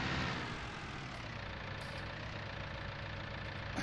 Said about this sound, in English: Let's run down with the tractor and get the seeder and start getting the other field planted.